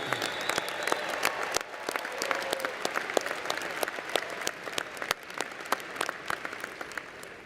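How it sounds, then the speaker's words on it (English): An audience at a fall university commencement applauds warmly, with many distinct hand claps merging into a sustained round that rises and falls slightly over several seconds. "We applaud all of you for a job well done."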